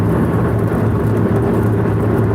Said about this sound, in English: Rain just started coming down, man.